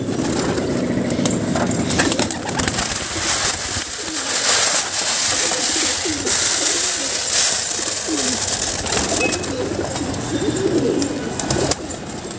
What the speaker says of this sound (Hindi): अभी सारे कबूतर बंद है